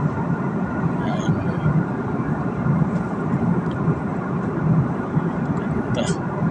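Steady low roar of an airplane cabin in flight, a constant broadband engine drone heard from inside the passenger compartment, with a person talking quietly over it.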